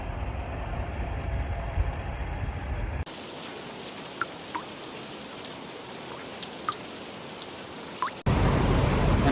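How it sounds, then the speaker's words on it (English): Steady rain falls throughout, a dense even patter with a few sharper drips, and the level shifts abruptly between louder and softer stretches. No one speaks. "Nothing sticks while it's raining."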